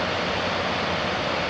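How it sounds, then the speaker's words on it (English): A waterfall spills below a small lake at High Falls in a Georgia state park, giving a steady, close rushing roar of falling water with no voices. "This is the falls here below the little lake at High Falls"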